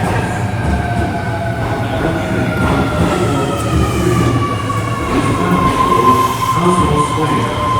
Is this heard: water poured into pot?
no